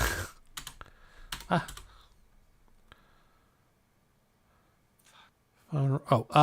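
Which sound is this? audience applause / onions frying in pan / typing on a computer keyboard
typing on a computer keyboard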